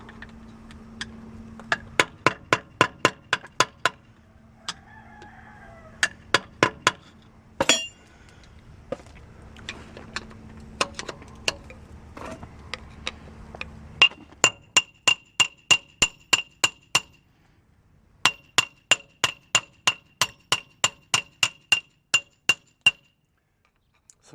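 Sharp metallic clinks ring out in quick bursts of repeated strikes as an improvised hammer hits the brake drum of a 1952 GMC M211 truck, each series of hits close and loud, with pauses between groups and a low hum underneath.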